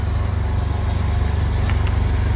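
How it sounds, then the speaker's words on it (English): A tractor engine runs at a steady low idle-like rumble, close and continuous, with a faint high chirp near the end. "What a nice tractor that one is."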